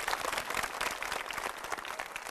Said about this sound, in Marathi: चला, टाळ्या वाजवून शुभेच्छा देऊया